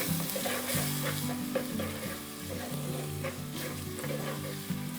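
Ginger-garlic paste sautés in a pan for a lamb liver curry, a constant sizzle with stirring, set against steady low tonal background music.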